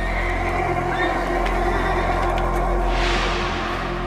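Horses whinny in the forest during a documentary reenactment, a loud neigh rising then falling over a steady low rumble and background sound.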